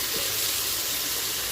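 Marinated beef sautéing in an Instant Pot for Filipino bistek, a steady, even hiss of sizzling oil with a faint watery crackle throughout, close and unbroken with no talking.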